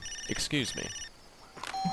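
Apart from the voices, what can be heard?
phone ringing in the video game Far Cry 2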